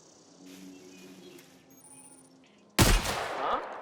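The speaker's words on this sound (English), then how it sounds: "Let's see if this shotgun's worth a damn." A shotgun blast fires once in The Outer Worlds video game, a sudden loud boom after quiet ambient game sounds, followed by a rumbling decay with further firing clatter.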